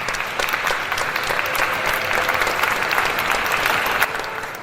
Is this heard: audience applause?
yes